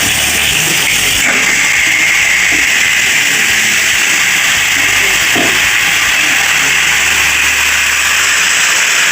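Marinated biryani meat, coated in its spice mix, sizzles steadily as it fries in hot oil for a Hyderabadi-style biryani, a loud, continuous hiss with no voices.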